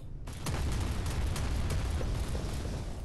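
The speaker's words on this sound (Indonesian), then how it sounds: "langsung aja kita cobain damage dari peluncur granat ini gitu kan" A Type 726-4A grenade launcher fires in the Modern Warships naval combat game, and its blast starts almost at once as a loud, sustained roar of explosions that fills about three seconds without a break.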